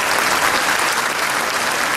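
Dense, loud applause fills a theatre at a school orchestra concert, continuous clapping from a large audience throughout with no talk.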